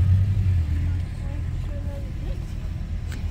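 Cars queuing at a border crossing idle with a low, steady engine rumble that is strongest in the first second, then settles into a softer drone.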